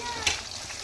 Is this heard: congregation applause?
no